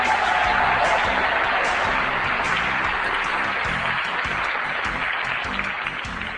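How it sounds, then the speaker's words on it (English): A graduation ceremony crowd applauds the graduates, a steady, dense wash of clapping at even loudness throughout, with a low rumble of room noise beneath. "Let's give the graduates a big round of applause"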